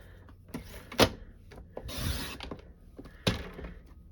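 Paper is trimmed to size for a gift bag with a few separate scraping and sliding strokes and light clicks, close and fairly loud, with no talking.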